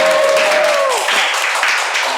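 Brief applause from a studio audience during a talk show podcast, a dense wash of clapping mixed with voices and a sliding tone at the start.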